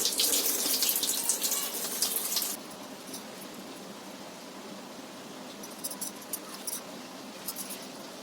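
Running water from a tap pours loudly at first while goat intestines are washed, then settles into a softer steady flow with small splashes and handling noises.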